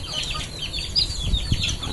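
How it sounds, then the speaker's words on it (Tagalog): Backyard chickens cluck in the afternoon at feeding time as they follow someone around, soft overlapping clucks and chirps close by, with a few louder bursts of movement and a faint steady background hiss. "so ayan ang mga manok sunod-sunod sa akin mga kabisay oh"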